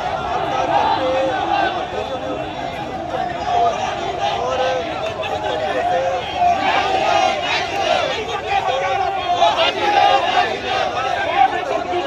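A large crowd of protesters packs the area around the clock tower, a dense continuous roar of shouting voices and chanting under steady babble, loud and close throughout.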